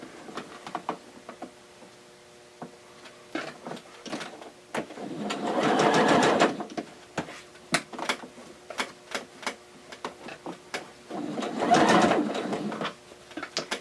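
A sewing machine stitches a fabric face mask in two separate whirring bursts. Scattered clicks and fabric handling fill the quieter gaps between the bursts.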